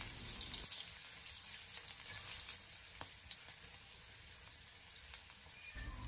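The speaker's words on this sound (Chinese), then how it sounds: "将小料煸炒出香味。" Sliced ginger and garlic stir-fry over low heat in leftover pork-belly oil in a wok, a continuous fine sizzle with light stirring scrapes, quiet and steady for several seconds, no talk.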